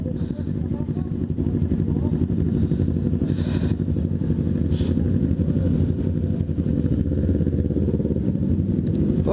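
A motorcycle engine drones steadily throughout a ride, loud and continuous with wind rumble and occasional rattles, while a rider talks over it.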